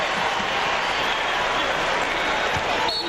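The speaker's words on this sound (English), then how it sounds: "Kansas fans cheer for everything, so they cheered when Rafe got his shoe back on." A dense, steady roar of Kansas basketball fans cheering fills an arena during a 1998 Big 12 tournament game against Oklahoma, loud and continuous, with a few sneaker squeaks and a commentator's voice underneath.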